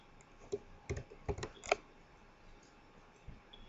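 Keys on a computer keyboard are tapped while C++ code is typed, a few quiet clicks in small clusters and then a lone final tap, close and soft in a quiet room.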